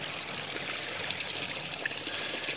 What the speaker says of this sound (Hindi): ये बिल्कुल मतलब नेचुरल पानी, जैसे मतलब चश्मों का पानी है ये, कहीं ना कहीं से रिस के इधर आ जाता है